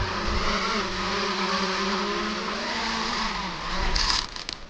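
Wefone WF30 GPS brushless camera drone motors buzzing in flight, a loud steady multi-toned whir with wavering pitch that swells near the end and then drops off.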